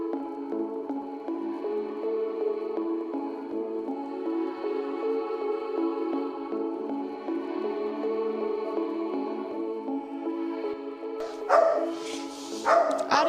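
Several dogs bark and yip continuously in kennels at an animal shelter, a dense overlapping chorus at moderate distance that grows louder and sharper near the end.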